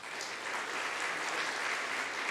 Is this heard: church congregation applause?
yes